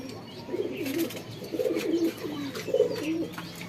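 Several Shahjahanpuri pigeons coo in repeated low, rolling phrases, close by, with a soft background hum.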